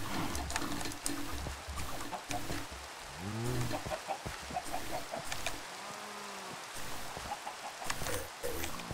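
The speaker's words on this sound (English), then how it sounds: "I'll breed the chickens." Chickens clucking in Minecraft as they are bred, several short clucks and bawks scattered over a busy game soundscape, mid-level and close, with other small in-game noises around them.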